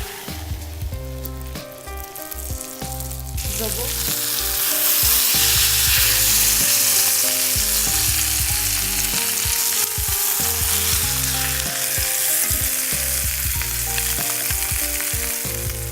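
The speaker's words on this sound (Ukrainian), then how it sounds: "Карасі обсмажуємо на розігрітій з жиром сковороді при температурі 160-180 градусів." Crucian carp sizzles loudly in hot fat in a pan at 160-180 degrees, the frying swelling after a few seconds over a low background hum, with no talking.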